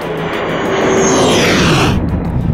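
A MiG-35 fighter jet taking off at a steep angle: a loud, continuous roar of jet engine thrust that swells and sweeps as the aircraft climbs away, with no voices.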